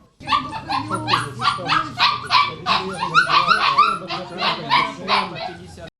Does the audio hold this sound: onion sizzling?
no